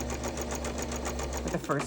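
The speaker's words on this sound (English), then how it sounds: "No wonder why my sewing machine doesn't work so well, right?" A sewing machine stitches a snippet roll in a steady fast rhythm of close, repetitive mechanical pulses, stopping near the end.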